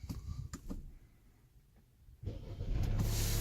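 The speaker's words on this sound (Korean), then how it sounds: "이렇게 시동이 걸립니다." A car engine cranks and catches after a quiet moment, started by push button with a dead smart key held to it, then settles into a steady idle hum close by, with a few clicks beforehand.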